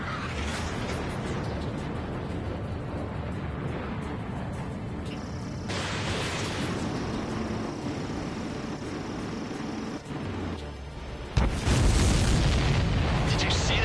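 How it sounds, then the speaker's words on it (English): A loud burst erupts in an aerial combat video game as an enemy aircraft is shot down, a sustained roaring blast over engine drone and game music, with a second heavy boom near the end. "Did you see that explosion?"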